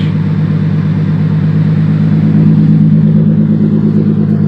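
A car engine with a large factory muffler holds a steady, loud droning idle-to-low-rev hum as the clutch is let out, a close, continuous tone with no talking over it.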